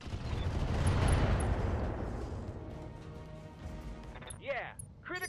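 Heavy weapon fire booms through a mech battle in RogueTech, a dense rumbling barrage that swells loudly early on and then trails off, with a voice talking over it and sharp chirping effects near the end.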